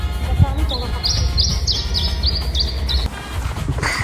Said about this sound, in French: Ah, il y a un oiseau qui parle là-bas.